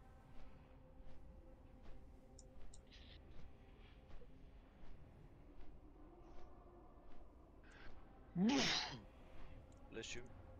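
One sharp, loud sneeze bursts out close to the microphone during a game voice chat, followed by a softer breath, while quiet background talk and faint noise continue.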